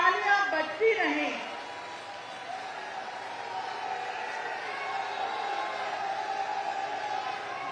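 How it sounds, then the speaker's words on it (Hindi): A crowd at a public gathering applauds to welcome Yogi Adityanath. A voice calls out briefly at the start, then broad, steady clapping and crowd noise run at an even level to the end. "माननीय को आशीर्वचनों के लिए आपकी जोरदार तालियों के साथ आमंत्रित कर रही हूं। जब तक पहुंचे तालियां बजती रहें।"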